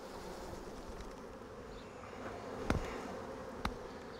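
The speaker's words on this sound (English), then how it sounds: "I just need to shake all the bees off of this" Soft, continuous buzzing of many honey bees nearby, being shaken off a hive frame, with two sharp knocks breaking through the drone.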